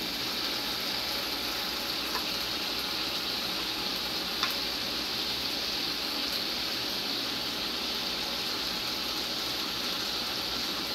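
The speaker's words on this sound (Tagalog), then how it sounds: "Bali, igigisa ko muna po siya." Marinated beef steak sautés in its sauce in a pan, giving a steady, even sizzle that holds for the whole stretch with no talking.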